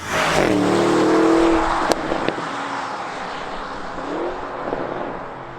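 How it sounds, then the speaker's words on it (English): A V8 SUV engine revs hard and loud at full throttle, its pitch climbing steadily, dips briefly, then rises again in a second surge of acceleration. "as soon as you floor the throttle"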